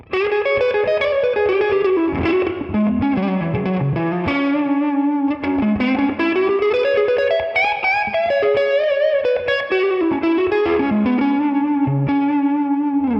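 Heavily distorted electric guitar on the neck pickup with high gain plays a loud, continuous melodic line with a thick, warm, slightly muddy tone and some effects shimmer, no voices.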